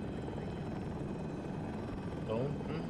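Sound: attack helicopter in a video game

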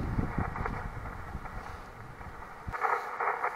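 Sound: gust of wind on a mountain summit

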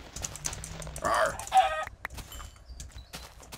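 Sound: chickens clucking in Minecraft video game

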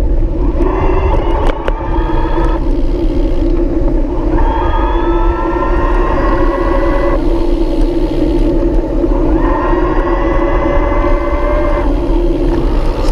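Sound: VeloMini Plus e-bike motor starting and stopping

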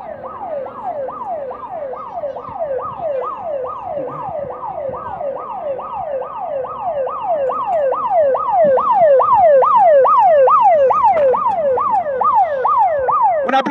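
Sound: fire truck siren

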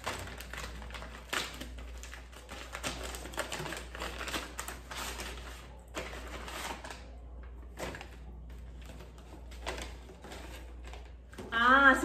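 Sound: opening a Natura gift package

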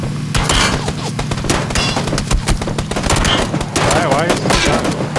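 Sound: gunfire shooting at players in video game PUBG

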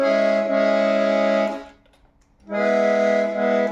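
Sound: accordion (23x12 button) chord played by pressing button

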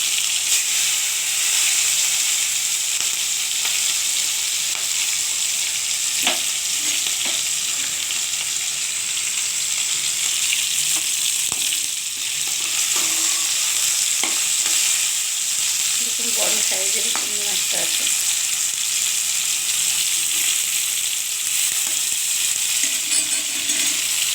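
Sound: prawns frying in hot oil

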